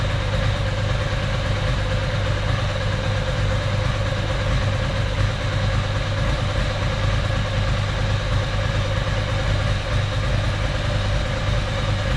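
A Ducati SS or Monster engine fitted with Mikuni carburettors idles steadily and loudly throughout, a continuous low throbbing rumble with no talk over it.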